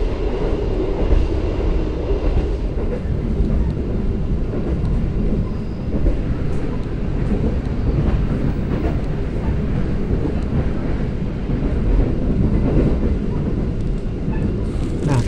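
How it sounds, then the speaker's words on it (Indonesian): Singasari train from Blitar to Pasar Senen passing alongside, a dense continuous roar and rumble of wheels and wind that stays loud and close for the whole stretch. "Tadi papasan kereta api Singasari dari Blitar ke Pasar Senen, akhirnya bisa ngerekam papasan juga ya."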